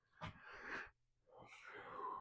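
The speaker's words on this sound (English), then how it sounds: "If you hear me breathing so heavily, I'm sorry" Heavy, rough breaths close to the microphone, two long noisy inhale-exhale bursts separated by a brief pause.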